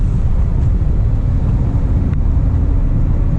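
A Stage 1 tuned Suzuki S-Cross engine accelerating, a loud steady low drone heard from inside the car, mixed with road and wind noise.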